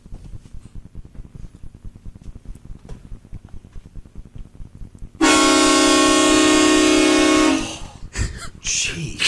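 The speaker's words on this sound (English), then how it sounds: "Chuck, have him go outside and just honk it and see if we can hear it in here" A car horn sounds outside a radio studio: after several seconds of quiet room noise, one long, loud, sustained honk holds for about two and a half seconds, then cuts off, followed by a few shorter bursts of sound.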